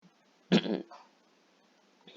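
One sharp, close cough bursts out, followed by a short rasp, then near silence.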